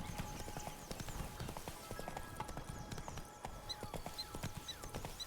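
Roach the horse trotting in a video game, rapid steady clip-clop hoofbeats close by, with faint background ambience and a soft game tone.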